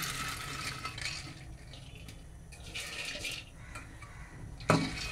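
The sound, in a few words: soaked lentils poured into a pressure cooker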